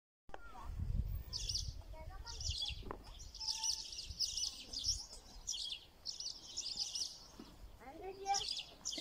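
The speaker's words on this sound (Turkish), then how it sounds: "Hadi siz şimdi biraz kuş seslerini." Birds chirp and twitter outdoors in a garden in quick repeated bursts, fairly close, with a few low voices and rustling underneath.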